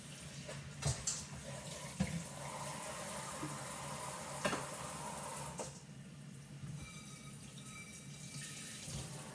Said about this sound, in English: make sure that they're all washed off nice and clean